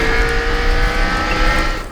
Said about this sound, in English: toy cars raced around plastic circles